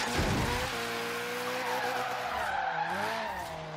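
Alfa Romeo Giulia track build drifting in the video game Forza Horizon 3: loud tires squeal and skid in long wavering tones, with the engine rising and falling underneath, close and continuous.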